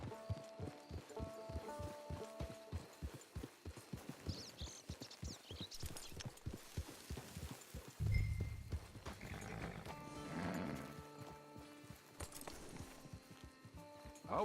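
Steady clip-clop of horse hooves walking at an even pace in Red Dead Redemption 2 Online, with game music playing faintly in the background and no speech.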